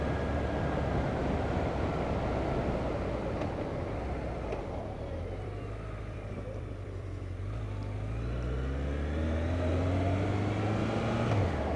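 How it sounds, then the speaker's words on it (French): Honda CB1100 motorcycle engine heard while riding, a steady low drone with rising and falling pitch sweeps as the rider shifts through the gears, wind rush over it, loud and continuous. "on entend plus le bruit du moteur, je trouve."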